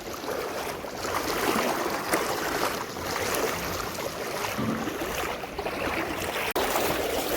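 After a heavy unseasonal downpour, river floodwater stands knee-deep across village farmland in Kikariya and pours onward in a constant, close roar, with a brief dip near the end and no speech.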